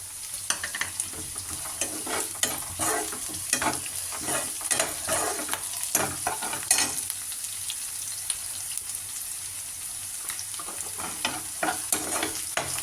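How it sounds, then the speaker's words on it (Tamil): Sliced onions with green chili and curry leaves sauté in hot oil in a pan, giving a steady sizzle broken by repeated scraping stirs, close and with no talk. "நல்லா வெங்காயம் வதங்கணும்."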